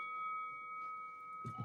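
A bell rings at the start of a broadcast, one sustained clear metallic tone that slowly fades, followed by a couple of soft low knocks.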